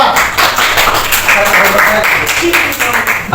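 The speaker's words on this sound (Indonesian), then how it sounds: "Tepuk tangan untuk kelompok 4" Classroom applause for group 4 after a presentation, a dense burst of many hands clapping close by, with voices mixed in.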